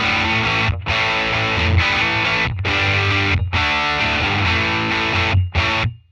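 An electric guitar runs through a Red Witch Euphorium Fuzz pedal on one gain stage, playing thick, saturated chords that sustain loudly and are separated by brief gaps before a final chord cuts off.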